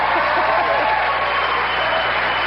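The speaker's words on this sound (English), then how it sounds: "Hit the applause light" A late-night television studio audience breaks into dense, steady applause, a loud continuous wash of clapping with no breaks.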